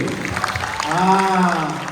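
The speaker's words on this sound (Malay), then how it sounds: "Terima kasih kepada pasukan choir kita. Bagilah tepukan sikit" An audience at an arts-week talk applauds the choir: scattered clapping runs throughout while a voice cries out over it in the middle, then the clapping continues under it.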